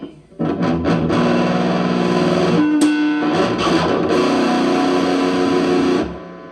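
A distorted electric guitar with reverb plays thick, crunchy chords, sustaining loudly before cutting off and fading.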